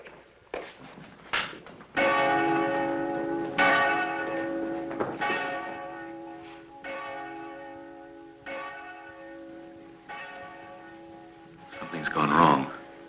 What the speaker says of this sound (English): To ring that bell now would be a serious mistake.